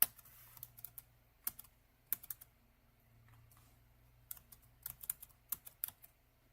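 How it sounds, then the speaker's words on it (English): Quiet, sparse clacks on a computer keyboard come in irregular bursts of keystrokes separated by short pauses, with a faint low hum underneath. "Just mashing keys here."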